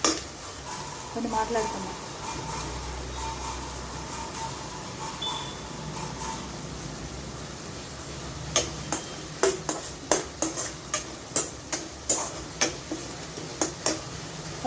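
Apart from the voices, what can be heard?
frying and stirring jackfruit seed curry in a pan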